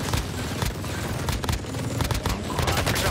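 Rapid hip-fired automatic gunfire in the Warzone game, a dense, continuous burst of loud close-range shots running throughout.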